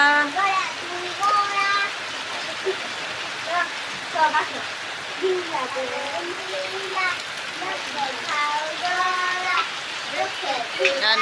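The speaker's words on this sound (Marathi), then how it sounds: "बघा कसा पाऊस पडायला लागलाय" Steady rain falls with a continuous hiss and patter, while people talk over it and occasional nearby sounds break through.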